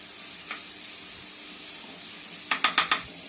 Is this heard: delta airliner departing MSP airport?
no